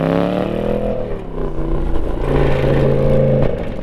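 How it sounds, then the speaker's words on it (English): Deep exhaust roar from a 2017 Porsche Panamera Turbo accelerating hard, a loud, sustained engine note with rising harmonic tones that climb and hold before easing off, heard up close with no talking. "give it the welly and terrify people with the exhaust roar"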